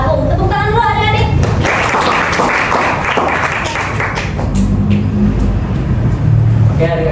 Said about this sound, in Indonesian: Tepuk tangan dulu adik-adik.